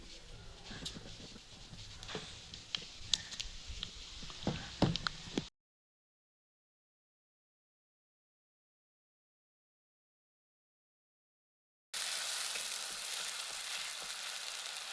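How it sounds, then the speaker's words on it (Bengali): Five-spice panch phoron hits hot oil for a Bengali fish chorchori, giving quick crackles and pops up close. After a silent gap, a loud, even hiss of frying returns. "ফোড়ন দিয়ে দিচ্ছি 5 ফোড়ন।"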